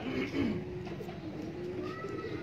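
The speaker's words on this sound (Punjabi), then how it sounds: "ਆ ਮੇਰੇ ਪਿੱਪਲਾਂ ਵਾਲੇ ਕਬੂਤਰ ਨੇ।" Pipal pigeons coo in a low, continuous murmur, steady and fairly close, with a few brief higher calls breaking through.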